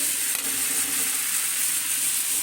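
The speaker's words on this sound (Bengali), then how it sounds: "আর এইদিকে বেগুনগুলো ভাজা হচ্ছে" Eggplant pieces fry in a pan with a continuous, fairly loud sizzling hiss and no voices.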